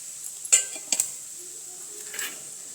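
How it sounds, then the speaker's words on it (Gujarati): A spoon mixes dry spice masala of red chili powder, salt, coriander-cumin powder, lemon juice and a little sugar for village-style pakoda batter, giving a few faint, scattered clinks against the bowl with quiet pauses between. "બધું સરસ રીતે આપણે મિક્સ કરી લેવાનું છે"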